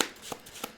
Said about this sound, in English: I'm going to shuffle my player deck one more time.